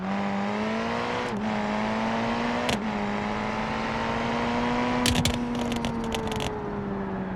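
A car engine with a sequential transmission in the driving simulator game BeamNG.drive hums at a steady, held pitch, dipping briefly at shifts, with sharp clicks and clatters bursting in near the middle.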